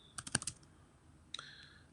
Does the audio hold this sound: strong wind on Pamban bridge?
no